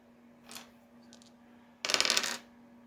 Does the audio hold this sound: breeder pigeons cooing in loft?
no